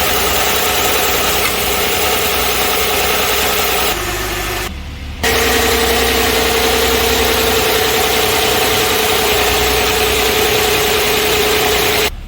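A Renault Samsung SM525V car engine idles steadily with a low, even hum and slight vibration, close and constant, with a brief dip in the middle as the fast idle cam closes and RPM returns to normal.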